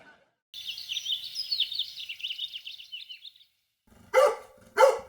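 A dog barks twice in sharp, close bursts near the end, after a stretch of high chirping bird calls.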